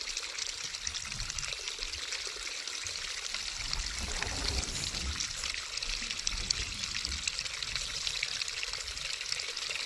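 Water pours and trickles steadily into a cooking pot outdoors near a watered field, a soft continuous stream lasting throughout with no talking.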